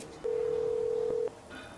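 A single steady phone tone sounds for about a second while a call is placed, clear over a quiet background, with a faint click near its end.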